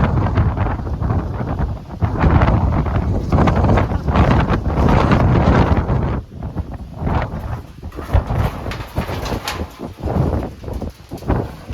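Strong wind on a farm buffets the mobile phone microphone in loud, rumbling gusts that swell and ease throughout, with no voices.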